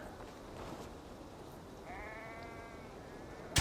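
A sheep bleats in Assassin's Creed Valhalla, a short wavering call rising over quiet ambient game sound, with a sharp noisy burst right at the end.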